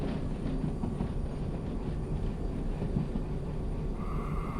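Train in the video game Derail Valley rolling through a tunnel with its rear cars pushing it faster, a steady loud low rumble and rattle of wheels on rails that fills the whole stretch with no break.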